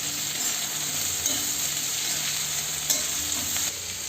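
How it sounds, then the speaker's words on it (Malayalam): Chicken and onions sautéing in a pan for a chicken curry, a steady close sizzle with a spoon or spatula scraping and stirring throughout, occasional louder clinks against the pan. "നല്ല രീതിയിൽ വഴറ്റി കൊടുക്കാം."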